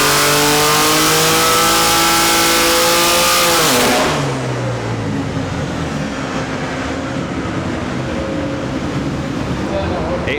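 A BMW S58 engine runs on a dyno at 40 psi of boost, revving up loudly and steadily before the pitch drops sharply around four seconds into a sustained roar with a rushing, broadband texture.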